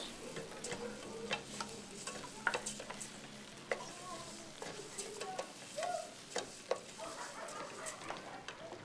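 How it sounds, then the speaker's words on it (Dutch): Soft scraping and clicking of a utensil stirring rice in a pan over a flame, with a faint sizzle underneath, close and fairly quiet. "Dat roeren we onder elkaar."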